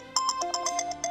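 A phone ringtone chimes in a repeating electronic melody, short bright tones in a steady rhythm, close and clear with no talking.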